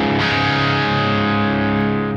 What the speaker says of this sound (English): it's a great sounding crunch straight away